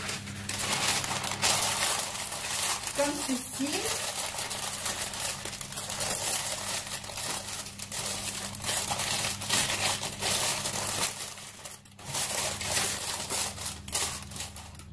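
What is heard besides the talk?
parchment paper crinkling in cake tin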